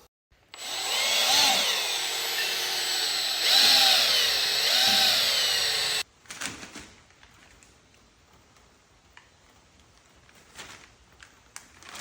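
Power drill mixing epoxy with mica powder for a Peterbilt 389 custom floor, a loud whining motor running about five seconds with pitch dips under load, then stopping and followed by scattered quiet clatter.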